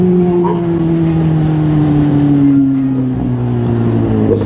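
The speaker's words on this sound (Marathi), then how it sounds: "भाई कडक आवाज येता गाडीचा" A Kawasaki Z800 superbike engine on a ride toward Lonavala holds a loud, steady high-revving drone with a slowly falling pitch, close and continuous.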